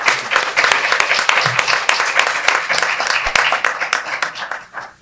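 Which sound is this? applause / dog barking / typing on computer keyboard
applause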